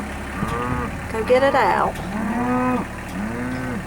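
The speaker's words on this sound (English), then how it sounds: "Oh Lord, I think I'm gonna have to roll my window up because these big cows will come right over to me" Big cows moo repeatedly and loudly close by at a hay feeder on a farm, several long lowing calls one after another, with a person speaking briefly among them.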